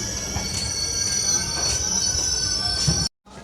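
An express train pulls into a junction platform with loud, sustained wheel squeal over a rumbling rail bed, heard close for about three seconds before the sound cuts off abruptly.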